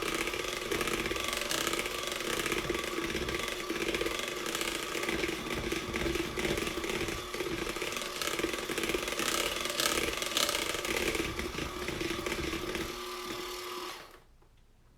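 An electric mixer beats cake batter after the eggs have gone in, a loud, steady motor whir with rattling that runs continuously for about fourteen seconds and then cuts off abruptly.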